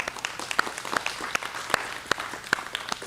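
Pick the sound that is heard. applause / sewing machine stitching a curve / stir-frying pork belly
applause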